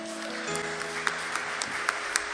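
A church congregation claps together during a worship service, a soft, steady patter of many hands with a few sharper claps standing out, faint and somewhat distant, over a low sustained tone.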